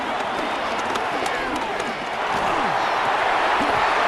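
Dense, steady roar of a stadium crowd in a Madden 26 football video game, loud and continuous, with scattered thumps and cries rising through the din as a play builds toward third down.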